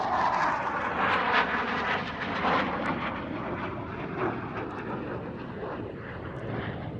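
A Hawker Hunter jet rolls through a barrel roll at an RAF airshow, its engine a steady, broad roar that stays loud and fairly close throughout, swelling slightly as it passes, with no voices over it.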